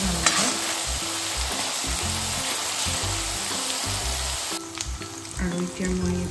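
Onion paste for a chicken liver curry fries in a pan with a constant, close sizzle and crackle, broken by intermittent stirring scrapes.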